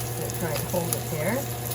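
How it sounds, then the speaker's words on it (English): Pork loin sears in a hot pan with a brief, even sizzle and a faint murmur underneath. "Because you want to sear it around the whole pork loin."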